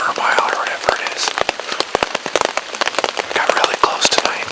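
Rain falling in near-freezing slushy weather, heard as irregular sharp taps and drips over a soft hiss, close and fairly loud, with brief breathy noises mixed in.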